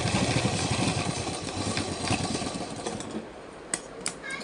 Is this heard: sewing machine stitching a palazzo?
yes